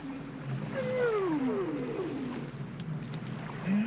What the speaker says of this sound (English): listening to the calls of the whales reverberating through a canyon